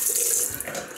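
Tap water runs steadily into a sink to wet a shaving brush during a wet shave with soap, a close, continuous hiss and splash heard alone.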